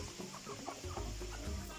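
A rooster named Pirat, one of a flock of pet cockerels, gives a few low, close clucks in an irregular rhythm over faint background noise.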